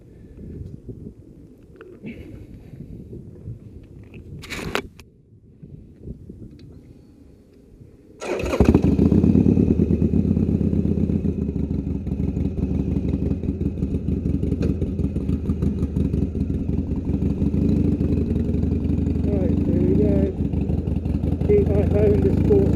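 A Harley-Davidson Sportster Iron 883 cranks over and fires up, then settles into a loud, deep, throbbing idle that carries on steadily at close range, with someone speaking briefly before it starts.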